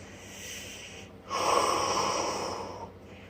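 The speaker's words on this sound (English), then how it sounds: "Sorry, I'm breathing really hard." Heavy, hard breathing from a person sitting and drawing, a loud close exhale or snort-like breath rising midway and fading, faint and alone otherwise.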